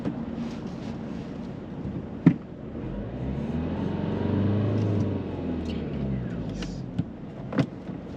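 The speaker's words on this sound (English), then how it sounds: "Drive off when you're ready." A car drives off from the roadside during a driving lesson. The engine hum rises and falls as it pulls away, with a couple of light knocks from inside the cabin and faint voices in the background.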